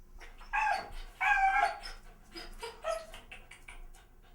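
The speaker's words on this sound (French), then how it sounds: "C'est pour qu'elle arrête d'aboyer." A dog in an apartment gives a few faint, muffled barks and yelps, indoors and at a distance, with a short burst of whimpering noise between them.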